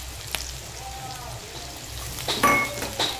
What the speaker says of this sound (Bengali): দিয়ে ভালো করে মশলাটা সঙ্গে কষিয়ে নেব